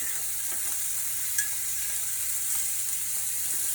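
Wagyu fillet steak sizzling steadily in a hot pan, a close, even frying hiss with a few small pops and a light clatter as the meat is turned.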